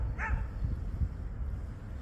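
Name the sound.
dog barking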